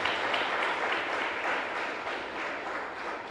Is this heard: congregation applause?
yes